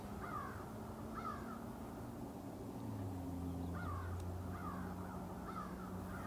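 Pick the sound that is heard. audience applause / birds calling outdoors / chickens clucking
birds calling outdoors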